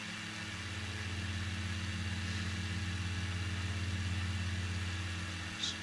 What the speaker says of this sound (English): I can hear that guy's engine flying around. He sounds like he's in a stunt plane or something.